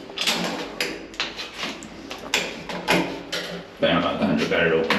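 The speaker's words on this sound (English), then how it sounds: "Bam, Alejandro got it open" Apartment double doors being opened, a run of knocks, clunks and rattles as the door is worked free, ending in a louder burst of sound; people talk throughout.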